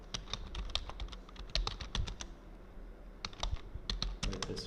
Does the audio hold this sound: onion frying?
no